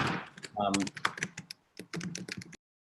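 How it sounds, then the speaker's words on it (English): Rapid clacking of computer keys in bursts with a short pause, close and fairly loud, no voices. "I'm muting Rabbi Mike so we don't hear that typing"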